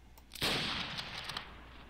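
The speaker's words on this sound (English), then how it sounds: "I heard like a gunshot" A single gunshot in Garry's Mod, a sudden fairly faint blast with a rough, lingering decay lasting about a second.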